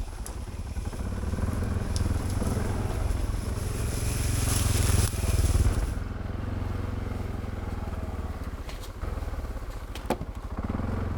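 An ATV four-wheeler out on a trail pulls small logs with a rope, its engine giving a close, steady rumbling drone. The pitch rises briefly, then settles, with wind buffeting and a few knocks and rattles.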